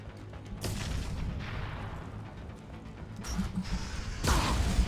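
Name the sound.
explosions and rumbling in Mass Effect video game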